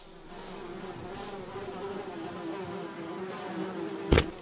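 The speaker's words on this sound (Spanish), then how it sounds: "Moscas." Flies drone around a house in the woods in the horror game Maggot Face, a steady close buzzing hum that holds throughout before a sharp brief knock near the end.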